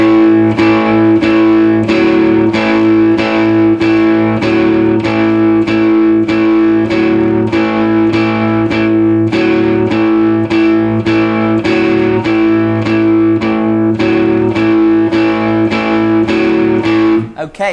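Electric guitar with effects and distortion playing four bars of the blues tune CC Rider, a loud, steady rhythmic pattern of repeated chords that keeps going to the end.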